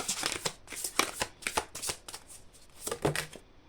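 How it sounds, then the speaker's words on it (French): Cards from a goddess oracle deck are shuffled and drawn, giving a run of soft, brisk riffling taps and slaps at close range with no talking. "je vais prendre une dernière carte des déesses"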